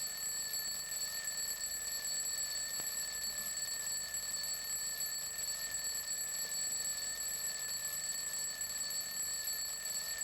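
An alarm clock rings steadily at a distance with no break, a faint high metallic tone held over quiet room hiss for about ten seconds.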